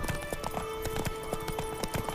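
A horse trots along a road in the video game The Witcher 3: Wild Hunt Next-Gen, its hooves clip-clopping in a quick, steady rhythm close by, with faint game ambience and no speech.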